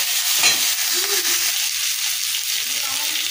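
Vegetables for vegetarian kaon khichuri are stirred and fried in a pan, a loud, steady close sizzle with occasional spatula scrapes.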